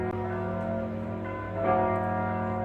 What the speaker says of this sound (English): These bells just don't want to quit.